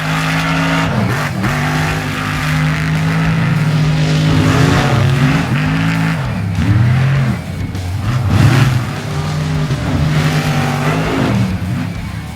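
Custom-built RC 6x6 monster truck towing another truck with a welded crane attachment, its electric motor whining loudly and steadily, pitch rising and falling with throttle over continuous tire and drivetrain noise, close by throughout.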